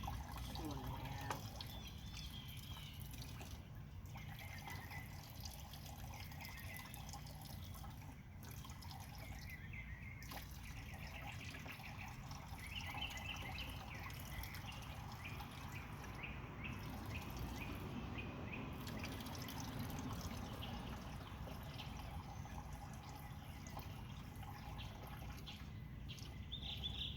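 Coolant drains from a Ram 2500/3500 truck hose as a steady trickling, dripping liquid flow, close and continuous throughout, with faint bird calls in the background.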